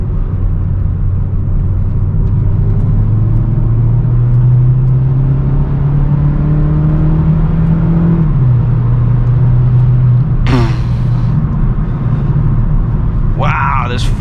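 A non-turbo car accelerates hard in sport mode on a public highway, heard from inside. A loud engine drone climbs steadily in pitch, drops at a gear shift, then keeps pulling, with brief voices near the end.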